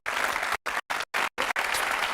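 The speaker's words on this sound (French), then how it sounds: "On peut l'applaudir très très fort" A studio audience on a French dating game show applauds loudly in several bursts separated by short silences, the clapping building to sustained, steady applause at the end.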